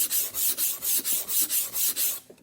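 An edge of 6mm Depron foam being sanded into a bevel, with about eight even, rhythmic rasping strokes close by before it stops.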